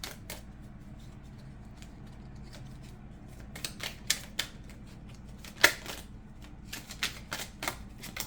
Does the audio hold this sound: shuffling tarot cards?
yes